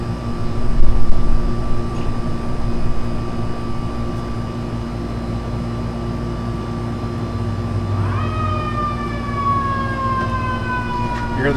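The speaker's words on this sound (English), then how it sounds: "You hear the sirens in the background." Sirens from emergency vehicles in a small neighborhood 4th of July parade, heard distant behind a steady outdoor hum, with a long held wail and then a rising, gliding siren tone late in the stretch.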